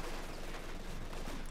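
Light machine gun fire from German infantry in Company of Heroes 2, a steady rattling stream of distant shots blended into battle noise, moderately loud and without a voice.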